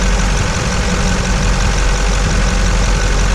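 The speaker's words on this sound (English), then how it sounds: "This fan clutch working good." A 2004 Chevy Silverado engine runs with its fan clutch engaged, giving a steady, loud, close-up idle roar with a low rumble that holds unchanged throughout.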